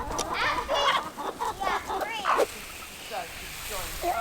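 Chickens cluck and call around a homestead garden and greenhouse, mixed with talk and rustling in the first half, then quieter, scattered clucks later.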